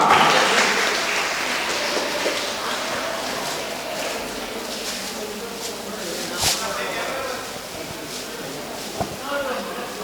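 Students at a Tamil association event applaud, with loud broadband clapping at the start that fades within a couple of seconds. Voices talk over what remains.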